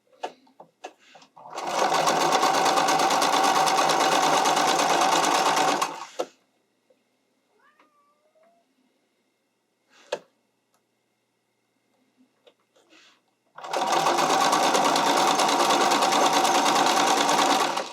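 A sewing machine stitches a fishing line hem for a figure skating dress or dance costume, running in two long steady bursts of about four and six seconds, separated by a quiet pause with faint handling clicks.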